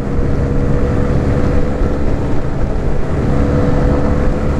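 A 2020 Honda CB125R motorcycle rides along with a loud, steady engine drone blended with heavy wind rush, continuous and unbroken, with no voices.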